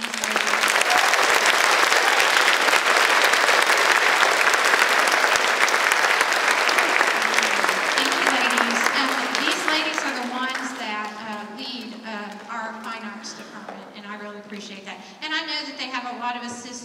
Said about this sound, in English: would you please give a round of applause for these ladies?